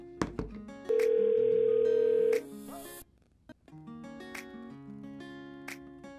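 A phone call's dial tone and dialing beeps play through an iHome iBT77 Bluetooth speaker, with a steady held tone followed by a series of short electronic tones and chimes, close and clear, with no talking.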